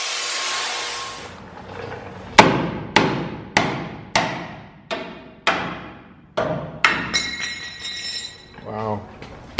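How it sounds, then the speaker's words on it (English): A sledgehammer pounds on metal on a 1974 Chevrolet C10 Squarebody truck during a coilover conversion. About eight loud, ringing clanks land close, one after another at a steady pace. A short clatter and a voice come near the end. "Sledgehammer."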